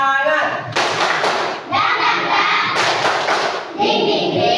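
Children clapping together in a classroom spirit-clap routine, loud bursts of claps in rhythmic groups with short pauses between them, fairly close.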